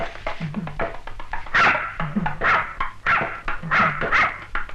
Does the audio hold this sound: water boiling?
no